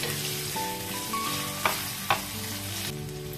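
Two chopped onions sizzle in hot oil in a pan while a brinjal masala curry is being cooked. The frying hiss is steady and close, with a low hum under it and a couple of sharp stirring clicks.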